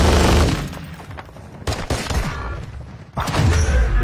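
Automatic gunfire bursts in Call of Duty Warzone 2.0, loud and dense, with rapid volleys and thuds filling most of the moment, a brief lull midway before another heavy burst.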